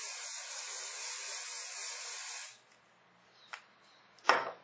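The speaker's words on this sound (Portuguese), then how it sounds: "Pro laço ficar mais levantado, eu vou usar um spray" Hairspray hisses from an aerosol can in one long steady burst over hair shaped into a bow-style bun, then cuts off, followed by two short, sharp spritzes.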